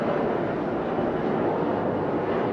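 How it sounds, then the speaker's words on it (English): A Chinook helicopter approaching near an airport in Okinawa, heard as a steady, loud, broadband roar of rotors and engines that holds constant throughout without any break. "Here comes your Chinook."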